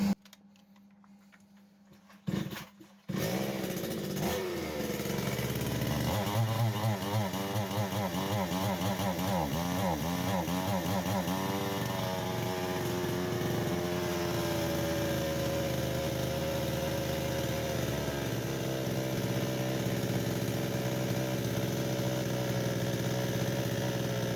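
Kitprom gasoline chainsaw with a too-high idle pulled to start, coughing to life after a couple of quiet seconds, then revving and warbling before settling into a loud, steady high idle that runs on alone.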